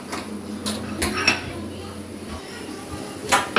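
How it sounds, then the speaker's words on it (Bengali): Three tea cups are picked up in a home kitchen, clinking lightly against each other in several quick taps, close by, over a steady background. "চলো কাপগুলো নিয়ে নিই তিনটে কাপ তিনটে কাপে তিনজনের চা"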